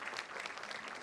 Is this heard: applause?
yes